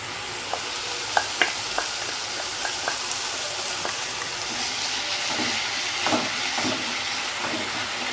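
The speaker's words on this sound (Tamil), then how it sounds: "இப்போ இஞ்சி பூண்டு பேஸ்ட்டு சேர்த்ததும் நல்லா அதோட பச்சை வாசனை போகிற அளவுக்கு நல்லா வதக்கிக்கணும்" Onions and ginger garlic paste sauté in a pan for mutton chops masala, giving a steady hissing sizzle close by, broken by scattered clicks of stirring and light spatters, with no talking.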